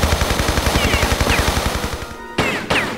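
Video game gunfire in Tomb Raider 3: a fast, loud run of evenly spaced shots rattling for about two seconds, then a brief lull and two heavier single blasts close together.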